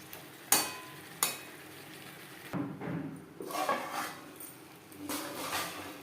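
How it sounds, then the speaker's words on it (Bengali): Potatoes and pointed gourd are stirred with spices in a pan over a medium flame: two sharp clacks of a spoon against the pan, then scraping and soft sizzling in quiet, uneven bursts. "বেশ ভালো করে মিক্সড করে দেবো মশলার সাথে আলু পটল রান্না করব মিডিয়াম ফ্লেমে"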